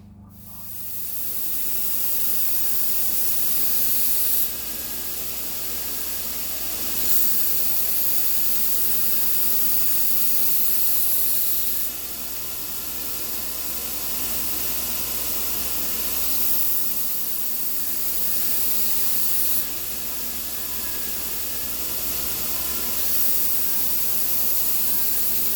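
Grinding the bevels on a Damascus steel Scottish dirk produces a steady, loud, hissing belt-grinder roar that runs continuously for over twenty seconds, swelling and easing slightly between passes, with no talk.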